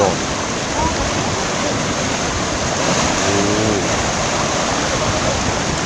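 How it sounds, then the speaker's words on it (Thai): Strong river current swirling and rushing near a fish trap during receding floodwater, a dense continuous roar of flowing water with brief faint voice-like sounds mixed in. "เอาแหไปมันแรงครับน้ำไหลวนอยู่ข้างโถ"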